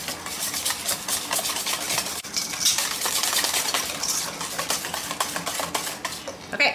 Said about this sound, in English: I'm just going to use a whisk, and you can whisk it, you know, for a minute or 2.